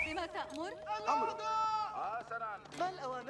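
Several wavering sheep bleats from the Age of Empires 4 strategy game, fairly loud, with a voice talking over them.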